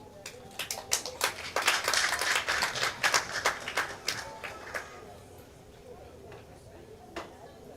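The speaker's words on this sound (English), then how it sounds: "Kindly welcome her with an applause." Audience applause welcomes a speaker at a project closing ceremony, a quick round of scattered hand claps that builds, holds for a few seconds, then thins to a few lone claps.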